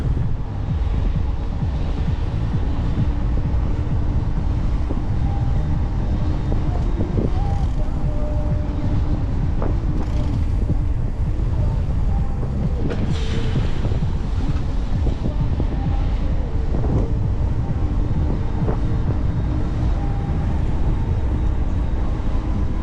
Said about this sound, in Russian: Чем ближе к Абхазии, тем сильнее ветер.